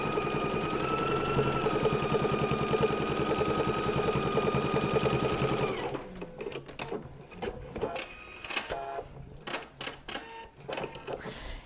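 A sewing machine stitches along the edge of a fabric pocket on a notebook holder, a steady rapid mechanical chatter for about six seconds before stopping, followed by scattered handling clicks and rustles.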